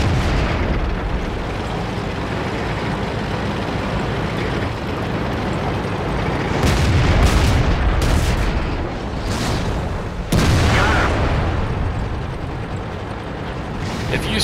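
Tank cannon shots boom in World of Tanks gameplay on the Fjord map, several sharp blasts over a constant rumble of engine and battle noise.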